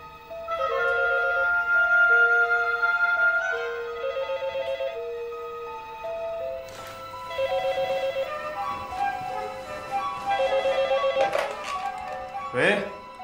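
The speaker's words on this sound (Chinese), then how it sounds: "您电话" A telephone rings with a repeating electronic melody in a 2005 drama scene; the tones play loudly in bursts across the clip, with a pause midway and a sharp sound near the end.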